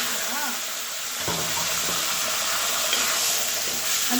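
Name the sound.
chilies frying in hot oil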